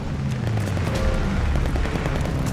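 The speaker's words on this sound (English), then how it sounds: "Allies called a bombing run" Bombing-run explosions pound through a Call of Duty: Vanguard match, a loud, continuous barrage of booms and gunfire with dense rumbling low end and no pauses.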